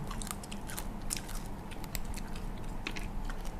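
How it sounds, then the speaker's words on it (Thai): Close-up chewing of a big jumbo oyster eaten with crunchy leucaena greens: wet, crisp bites and steady mastication, fairly quiet, with no talking. "เคี้ยวตามนะผักกระถิน"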